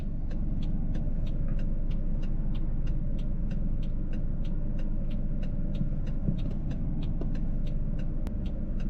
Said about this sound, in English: now we're in reverse. And we're just going to go back super slow